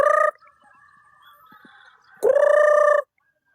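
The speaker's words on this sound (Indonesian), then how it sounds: "Tuh ayam kesini semua." Two loud, harsh chicken calls, each under a second, separated by a quiet stretch with a faint steady tone.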